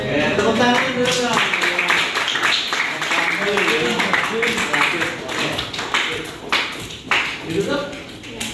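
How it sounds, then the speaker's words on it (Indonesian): Audience claps at the end of a university geography class presentation on weather and climate, with scattered sharp claps mixed under loud, overlapping voices and chatter. "Oke, tepuk tangan dulu"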